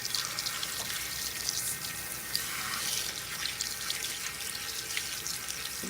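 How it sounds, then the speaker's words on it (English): Tap water runs steadily into a salon sink as a comb is rinsed, a continuous hissing splash with small irregular drips, close and alone. "We'll just let that sit for 1 second while I rinse out my comb."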